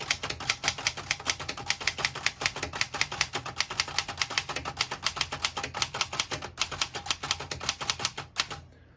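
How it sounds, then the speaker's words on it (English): Rapid, even keystrokes on a 1937 Remington Junior vintage portable typewriter clack sharply one after another for several seconds, close and crisp, ending abruptly. "I'll type a sentence on the next line."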